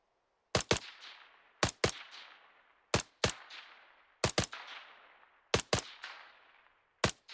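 Machine gun fire in a military video game: five short paired bursts of sharp gunshots spaced about a second apart, each trailing off in a long echoing decay, loud and close with no talk.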